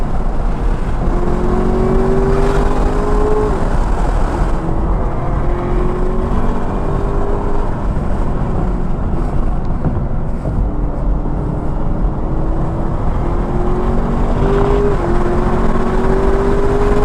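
A stock Camaro ZL1 1LE lapping Sebring during time trials, with understeer and soft brakes: its engine drones loud and close throughout, revs climbing and dropping through repeated gear changes, with no talking.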